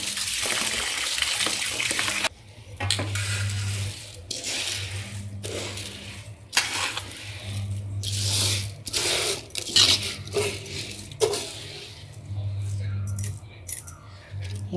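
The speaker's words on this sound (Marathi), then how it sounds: "तर याला आपण चांगलं चार पाच पाण्याला धुवून घेऊया" Pearl millet (bajra) grains are washed by hand in water, giving repeated swishing and splashing bursts with short pauses between them over a steady low hum.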